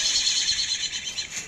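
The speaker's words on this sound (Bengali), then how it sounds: "ইগলের বাচ্চা কীভাবে ডাকে শোনেন" An eaglet in a park aviary enclosure gives a high, shrill, continuous calling cry that wavers slightly in loudness across a second and a half, with no talk over it.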